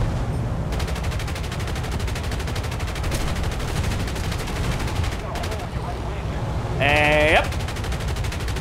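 Aircraft guns fire in War Thunder, a continuous rapid rattling stream of shots over engine drone, then a short whistling tone near the end; a voice speaks once briefly.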